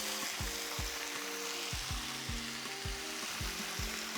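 Beef bacon frying in a pan, a loud, steady sizzle close up, with repeated low knocks and scraping from stirring or moving the pan throughout.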